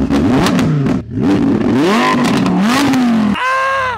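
A powerful V10 sports car engine with four exhausts revs hard several times, rising and falling in pitch with sharp throttle blips, then settles into a loud idle.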